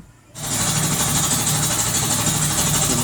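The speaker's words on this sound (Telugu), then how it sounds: "ఫిట్ చేసుకొని మనం అయితే ఇది మోటార్ ఒకసారి ఆన్ చేసి చెక్ చేసుకోవాలి." An air compressor motor switches on and runs with a steady, loud mechanical drone and hum after a brief quiet moment at the start, continuing unbroken to the end.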